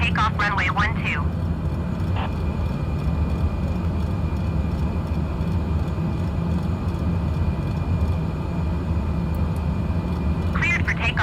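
Cessna Caravan turboprop engine at takeoff power, a steady loud broadband roar with low rumble holding throughout, briefly overlaid by radio voices at the start and end.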